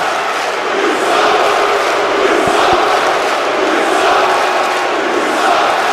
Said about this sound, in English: The more this crowd chants "you suck," the more aggressive Nick Black gets